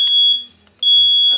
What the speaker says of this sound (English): Okay, turn off the fire alarm.